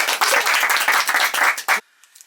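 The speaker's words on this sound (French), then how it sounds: "Bravo. vos applaudissements." Audience applause after a stage magic trick, dense and close clapping for nearly two seconds before it cuts off abruptly into near silence.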